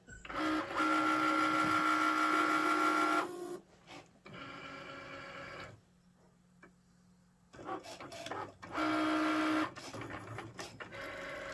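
A Cricut cutting machine cuts paper with loud whirring motor runs and tonal buzzing passes, broken by quiet pauses, short clicks and repeated carriage movements.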